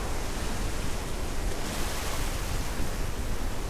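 Ocean waves and surf churn in a continuous loud roar at close range, with wind buffeting the microphone and no voices over it.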